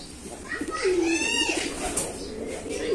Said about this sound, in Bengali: এই পাশে চারিদিকে দেখুন, ফার্মটা গিরিবাজ কবুতরের